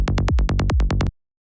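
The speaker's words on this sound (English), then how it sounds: "make a clean psytrance bass using sampler in Ableton" Rapid, tight psytrance bass synth notes made with a sampler in Ableton pulse in a quick rolling rhythm, each with a sharp clean attack, loud and dry, then stop abruptly into silence.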